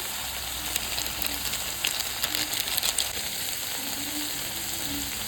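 Cumin and ginger paste sizzles in hot oil in a home kitchen as a steady close-up frying hiss with faint crackles and no voices.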